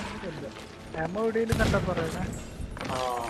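Bursts of gunfire in the game Sea of Thieves crackle among excited talking voices, the shots short and sharp, with voices over them.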